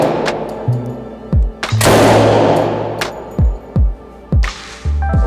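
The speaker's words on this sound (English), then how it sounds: "All right, so we are shooting the Tommy gun." A Tommy gun fired in single shots on semi-automatic at the Red River Range in Shreveport, Louisiana, giving several sharp, loud reports at irregular intervals, each followed by a brief ringing decay.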